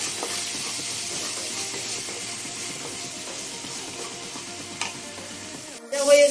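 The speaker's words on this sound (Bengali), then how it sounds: "আমি বিনস কুচি দিয়ে আমি এখন অল্প নাড়াচাড়া করে নেব" Chopped green beans stir-fry in a pan with a steady sizzle and rhythmic stirring scrapes. A brief clatter sounds near the end. Nobody speaks.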